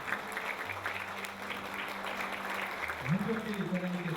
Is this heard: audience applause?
yes